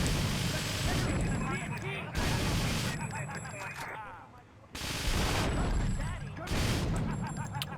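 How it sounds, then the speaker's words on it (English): M60 machine gun fired in Grand Theft Auto 3, heard as loud sustained bursts of rapid automatic gunfire in several long stretches, with brief lulls between volleys and a dense, crackling game soundscape. "the M60 makes short work of this!"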